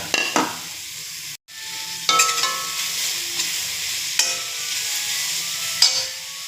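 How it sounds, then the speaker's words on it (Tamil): Grated carrot with a little turmeric frying in a pan, a steady close sizzle punctuated by a few sharp spoon stirs and scrapes, one brief dropout, and no talking. "இப்போ துருவி வச்சுருக்க கேரட்டை அதில் கொட்டிடலாம்."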